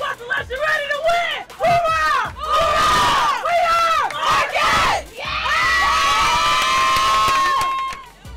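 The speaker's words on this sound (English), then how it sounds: "Marquette was greeted with an enthusiastic crowd outside their hotel." An excited crowd of fans outside a college women's basketball team hotel on NCAA tournament game day, loud cheering, whooping and shouting in repeated surges that keep rising and falling.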